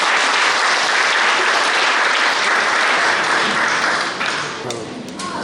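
A church congregation breaks into sustained, loud applause to welcome a guest speaker, steady dense clapping that tapers slightly toward the end.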